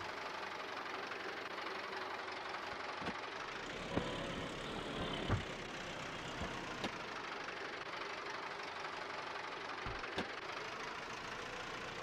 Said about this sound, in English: This has been a pretty solid tractor for us.